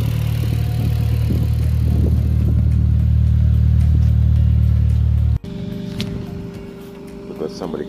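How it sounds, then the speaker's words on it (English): A nearby lawn mower cuts grass with a loud, steady low engine drone that stops abruptly partway through, leaving quieter background noise. A voice can be heard over the engine. "We've got somebody cutting the grass now, so it's getting a bit noisy"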